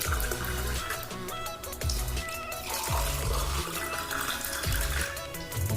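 Water poured into a salt water light bulb setup, a steady rushing gush with splashing that runs continuously and loudly throughout, with no talking.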